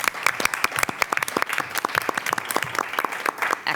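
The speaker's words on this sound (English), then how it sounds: "So maybe a round of applause for that." A room full of people at a meeting breaks into a dense, steady round of applause, with close, overlapping claps sustained for several seconds.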